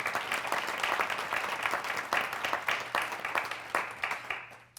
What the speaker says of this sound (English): Be a big round of applause for the Fulbright Scholars that are with us here.